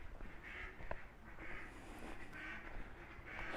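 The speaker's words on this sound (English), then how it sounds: "Some fussy ducks under there." Ducks under a pier at Marina de Aequa in Vico Equense, Italy, give repeated nasal quacks at a moderate distance over steady outdoor ambience and water.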